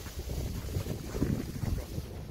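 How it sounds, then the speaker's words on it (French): Strong outdoor wind buffets the microphone during camping-car maintenance, a continuous loud low rumble with gusty surges and no talking. "c'est difficile de filmer en ce moment à l'extérieur parce qu'il y a beaucoup de vent"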